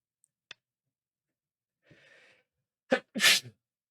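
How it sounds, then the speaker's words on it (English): A single sharp sneeze rings out close by, preceded by a quick inhale and a few small clicks and breaths in an otherwise quiet room. "Oh, sneeze."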